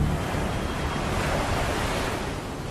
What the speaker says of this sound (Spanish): Vimos como el agua giraba y giraba sin cesar, haciendo un ruido atronador al romper en las rocas.